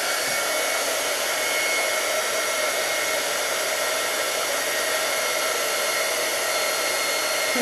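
A heat gun blows hot air to melt clear embossing powder on a stamped rabbit for a card. It gives a steady, loud, close whooshing fan roar that holds unchanged throughout.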